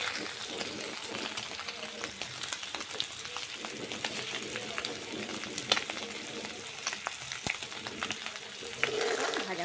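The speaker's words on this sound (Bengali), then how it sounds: "খুব বেশি ভাজবো না, এটা হালকা করে ভাজতে হবে" Pieces of steamed egg fry lightly in a pan with a soft, crackling sizzle and scattered pops throughout, fairly quiet and close.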